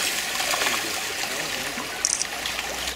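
Water flowing in a creek near Juneau, Alaska, a steady close trickle and burble that holds level throughout with no voices.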